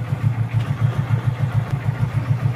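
A motorcycle self-start motor cranks in a fast, even pulsing rhythm during a check of the starter, close and continuous for the whole stretch.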